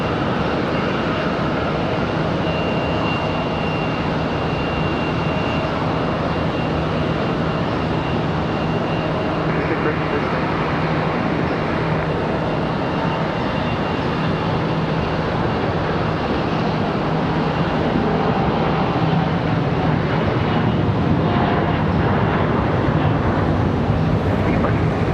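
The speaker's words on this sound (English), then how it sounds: "PSA Airlines up next. CRJ 900 LR." A PSA Airlines CRJ 900 LR jet at Charlotte Douglas airport gives off a loud, sustained engine roar and whine that stays steady for the whole stretch, slowly swelling near the end with no pauses.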